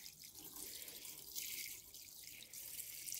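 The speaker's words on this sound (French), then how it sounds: "Et maintenant je mets l'eau dans la machine." Water pours steadily from a watering can into a washing machine, a continuous splashing stream with slight surges, close by and with no talk.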